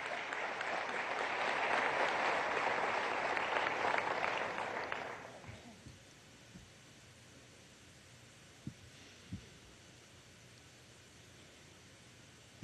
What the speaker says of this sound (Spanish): vamos a darle un aplauso a Alfred Nazaret Ñañez, el poeta, poeta comunal